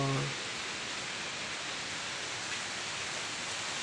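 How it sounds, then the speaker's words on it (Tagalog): Heavy rain driven by wind pours down steadily, a dense uniform hiss filling the whole clip at close range, with no voices over it. "Ang lakas pa man din ng ulan."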